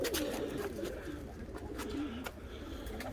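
A pigeon coos softly in a low, repeated warbling call, with faint background clicks and rustles.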